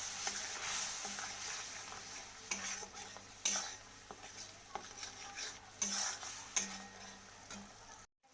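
Cumin powder and turmeric powder fry in a pan for an eggplant dish, giving a steady close sizzle broken by irregular scraping and stirring strokes against the metal, with no voices, until it cuts off abruptly at the end.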